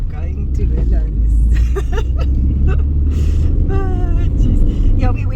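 Inside a car on the road, with steady low engine and tyre rumble running throughout while people talk over it.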